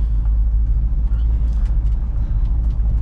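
A 1955 Pontiac Star Chief with a 287 engine and four-speed Hydramatic transmission cruises along a road on a sunny day, its low engine and tyre rumble steady and close from inside the car.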